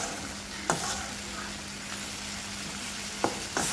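Bottle gourd greens sautéing in a pan give a steady low sizzle, broken by a few sharp clinks of stirring near the start and the end.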